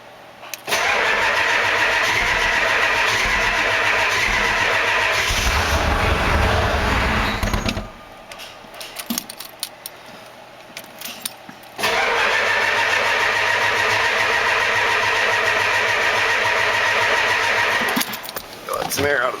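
Engine cranking and catching after a fuel filter refill with air still in the fuel system, running loud and steady for several seconds, dropping out briefly, then starting again and running on.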